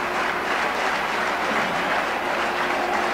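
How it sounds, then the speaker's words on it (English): A very large cricket crowd at the National Stadium in Karachi applauds a batsman's century, a dense, steady roar of clapping that fills the whole stretch with no letup. "There's the applause from this very large crowd at the National Stadium"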